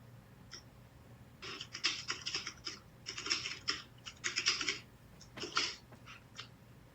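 Computer keyboard typing in bursts of rapid key clicks, close and moderately loud, with short pauses between runs and no talking.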